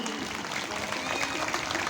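Devotees clapping along during a kirtan at a Shrimad Bhagwat Katha, a steady wash of many hands filling the space, moderately loud and continuous, with some voices mixed in underneath.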